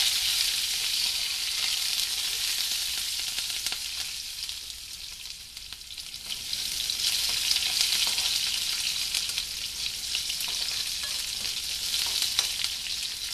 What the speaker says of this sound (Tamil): அந்த வெங்காயமும் பூண்டும் போட்டு நல்லா வதக்கணும்